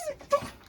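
A short, faint dog whimper with a couple of brief high-pitched whines aimed at guinea pigs, heard close by against quiet room noise.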